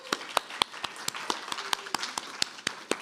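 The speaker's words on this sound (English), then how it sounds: "Can we have a big hand of applause for your amazing teachers?" A school audience claps for their teachers on the first day, with sharp individual claps spaced irregularly over a steady crowd murmur, fairly sparse rather than a full ovation.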